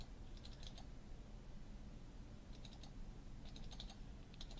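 Faint computer keyboard clicking comes in small bursts of quick keystrokes, separated by pauses, under a steady low background hum, with no speech.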